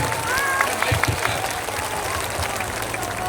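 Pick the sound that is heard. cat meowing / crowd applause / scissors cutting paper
crowd applause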